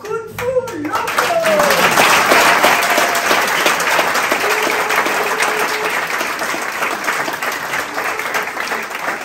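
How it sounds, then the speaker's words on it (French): Sustained applause from the audience at a live cabaret show, broad dense clapping that swells after a brief lead-in and continues steadily for several seconds, with a few voices mixed in. "Je vous demande d'applaudir les Kung Fu locaux."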